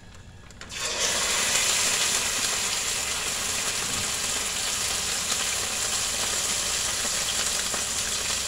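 CDO beef tapa frying in a pan for breakfast: after a short quiet start, a steady, close sizzle with faint crackle holds evenly to the end.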